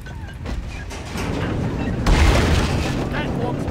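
A sticky grenade blows up in a video game, a deep booming burst that swells suddenly to full loudness and rumbles on under a dense, noisy game mix.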